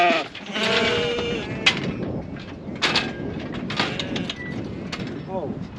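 Sheep bleat repeatedly inside a Prattley mobile sheep handler, loud and close, with metallic knocks and clanks from the handler and people talking amid the calls.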